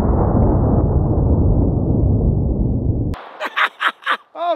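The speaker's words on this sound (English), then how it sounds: "we're gonna start out with a .22 long rifle, and I'm gonna be using a Smith & Wesson .22 Victory" A .22 long rifle round fired from a Smith & Wesson .22 Victory pistol at bulletproof underwear, a loud sharp report that rolls on for about three seconds, followed by several short clanging, ringing hits.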